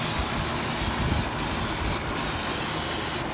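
Starting fluid is sprayed around the intake boot clamps of an engine: a steady close aerosol hiss runs almost without a break, with brief pauses between bursts.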